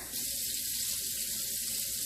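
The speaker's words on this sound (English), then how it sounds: "So I'm gonna put 2 cups of water in here" Water is poured from a container into a pan of dolma, a steady close splashing stream that runs without a break after a brief quiet start.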